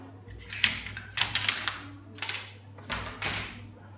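Scissors snipping through pajama fabric in a run of crisp, close cuts, several bursts of sharp clicking strokes over a steady low hum, with no talking.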